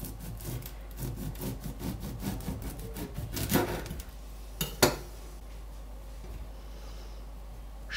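A knife saws back and forth through a loaf of bread, cutting thin slices in a quick, even rhythm of rasping strokes, followed by a couple of sharp scrapes and then near quiet.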